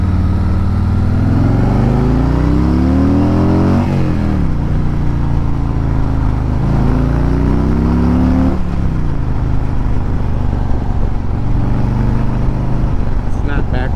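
Harley-Davidson Road Glide motorcycle with an aftermarket clutch, riding on a road: a steady engine drone rises and falls through several gear changes, loud and continuous, with a rider talking over it.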